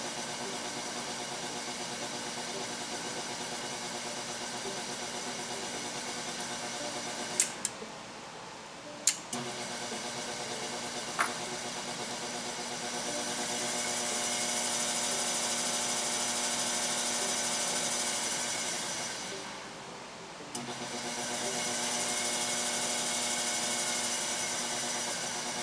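A DC motor driven by a Warner Electric SE2105 DC drive runs steadily with a faint, even hum, broken by a few sharp clicks, one brief dip in level and a slight rise partway through.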